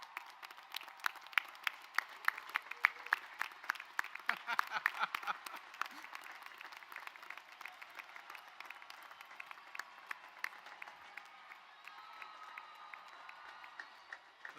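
A large graduation crowd in a stadium applauds steadily for families and loved ones at a university arts commencement, dense clapping with scattered cheers heard from a distance.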